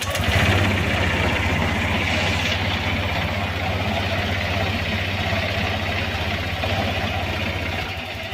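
A motorcycle engine idles steadily after a valve clearance adjustment tune-up, a close, loud, even low chugging throughout with no talk.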